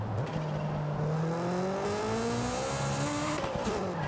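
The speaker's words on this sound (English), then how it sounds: "let me see when the VTEC kicks in" Engine in Forza Horizon 5 revving up hard as VTEC engages, a loud continuous rising whine that climbs steadily in pitch over several seconds, with faint tire squeal under it and no talk.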